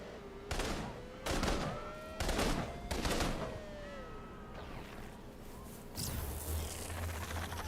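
APC turrets in inFAMOUS Second Son fire several loud, spaced bursts against a sci-fi whine, then give way to a lower rumbling barrage near the end.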